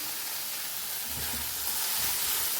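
Paneer being tossed in a hot pan while its liquid cooks off, giving a steady soft sizzle and hiss with faint stirring scrapes, close and continuous with no talk.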